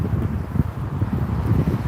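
Wind blowing steadily outdoors across a vendor's market table, a rough low rumble of gusts buffeting the microphone, loud and continuous with no talk.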